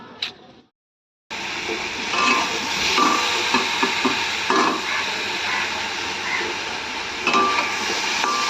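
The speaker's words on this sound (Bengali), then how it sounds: "এটা কুমড়ো ভাজা কমপ্লিট। আর একটু ভাজবো, আর একটু কড়া করা হবে" Pumpkin slices fry in hot oil in a pan, a steady close sizzle and crackle with small pops throughout, following a brief silent gap at the start.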